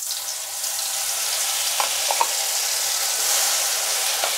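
Poppy seed paste sizzles and fries steadily in hot oil while being stirred, with a few soft clinks, for a Bengali fish curry with mustard and poppy seed; a continuous close crackle with no talking.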